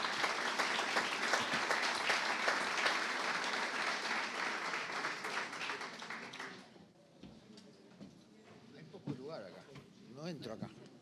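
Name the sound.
applause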